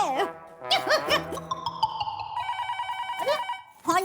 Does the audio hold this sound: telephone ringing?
yes